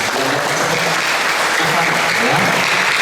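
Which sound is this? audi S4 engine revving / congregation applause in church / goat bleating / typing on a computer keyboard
congregation applause in church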